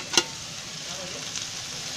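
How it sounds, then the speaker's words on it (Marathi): Onion, potato and tomato stirred in a hot pan for a farsan chivda vegetable dish: a sharp utensil clack at the start, then a soft continuous sizzle with faint scraping. "सर्व एक एक वस्तू टाकून अशी फिरवून घ्यायची"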